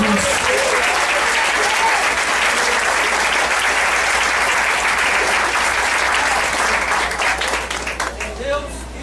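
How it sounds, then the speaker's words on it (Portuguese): Church congregation applauding loudly and steadily, a dense, sustained clapping that fills the room and tapers slightly at the end. "Então aplauda o Senhor Jesus."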